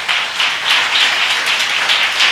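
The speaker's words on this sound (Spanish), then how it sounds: "Le da un aplauso al Señor." A church congregation claps in praise, loud and close, with many hands producing a rhythmic, pulsing clatter that swells in regular beats across the whole stretch.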